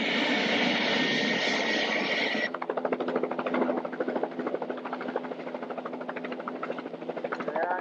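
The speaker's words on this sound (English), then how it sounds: "And this is Life Flight getting ready to lift off." Life Flight medical helicopter lifting off after a plane crash, a loud steady whine of engine and rotor at first, then a deep rhythmic rotor chop with a low engine hum, fairly close and continuous.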